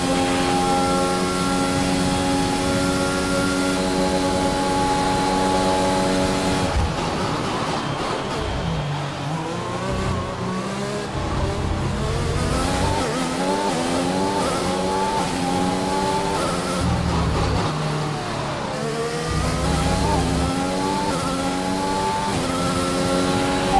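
Formula 1 race cars in the F1 2021 video game scream past at full throttle, engines rising and falling through gear changes as one car overtakes another, loud and continuous with tire noise throughout.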